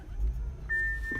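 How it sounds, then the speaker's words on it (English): A 2019 Audi powers on with a low engine hum, and a steady electronic chime tone sounds partway through, heard from inside the vehicle. "We're going to turn the car on."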